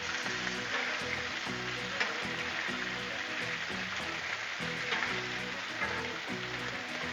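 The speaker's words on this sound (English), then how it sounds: "let's flip this bacon around a little bit." Bacon sizzles on a Blackstone griddle with a soft, continuous crackle, overlaid by repeated low clunks and scrapes as strips are moved and flipped at a moderate distance.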